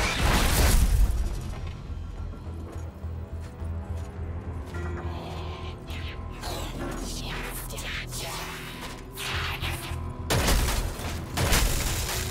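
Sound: explosion at thrusters in Destiny 2 video game cinematic

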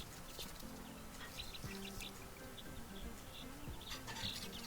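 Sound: White Americana chicks chirping

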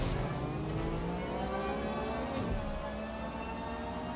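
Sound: electric car driving in Watch Dogs Legion video game

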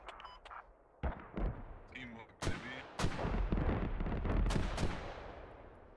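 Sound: mortar fire in Star Wars Galactic Contention video game

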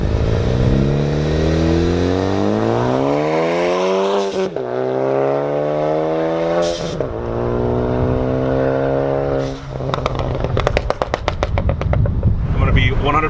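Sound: loud car exhaust revving

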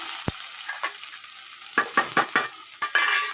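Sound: onions frying in hot oil in a pan

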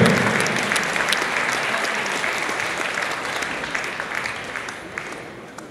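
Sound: audience applauding at a competition

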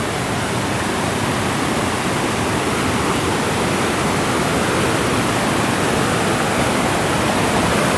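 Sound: waterfall, Cachoeira da Chave in Votorantim

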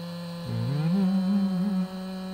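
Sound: chainsaw cutting honey locust tree

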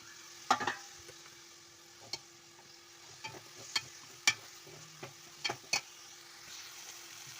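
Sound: onion, tomato and green chilli added to hot oil, frying

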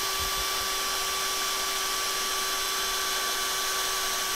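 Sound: drilling a hole through an acrylic blank

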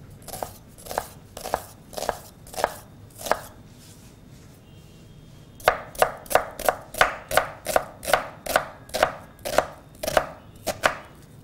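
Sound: chopping onion finely with a knife

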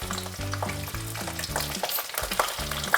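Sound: frying eggplant with vegetables in a pan

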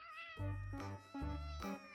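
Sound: cat meowing, stressed on first time outdoors

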